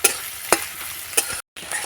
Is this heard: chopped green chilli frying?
yes